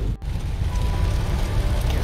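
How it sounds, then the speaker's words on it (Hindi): Steady rain falls on a rainy day in Ras Al Khaimah, a continuous dense patter with no talking. "छमछम बारिश हो रही है"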